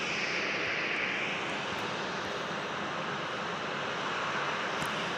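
Embraer E-175 jet airliner at San Diego International Airport, a steady broadband engine roar with airflow hiss that holds loud and close throughout, no voices.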